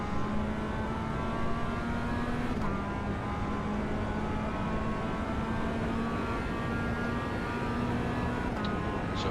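A Mazda MX-5 in iRacing at Winton Motor Raceway, a steady, close engine drone that holds pitch, dips briefly as the throttle eases, then pulls on evenly, loud and continuous with no voices.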